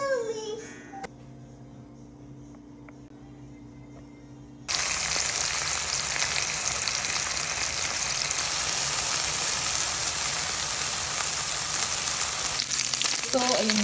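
Beef steak frying in a skillet for garlic butter steaks: a loud, steady sizzle jumps in after a few quiet seconds and holds nearly to the end, with faint talk early on.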